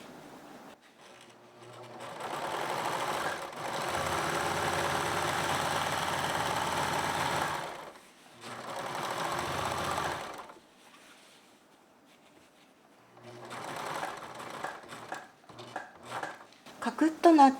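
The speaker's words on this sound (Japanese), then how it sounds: "ロックミシンをかけます。" An overlock serger sews the front and back crotch seams of wide-leg trousers in two loud whirring runs, a longer one then a shorter one, followed by quieter stop-start bursts and small clicks.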